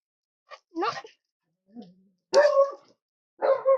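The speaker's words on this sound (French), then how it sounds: "c'est les chiens." Several dogs at a family home in France give short, irregular bursts of barking and yelping with gaps between them, fairly close and moderately loud, with no talk over them.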